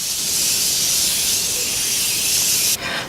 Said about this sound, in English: Going to be going in with the Morphe Continuous Setting Spray. This is a aerosol can.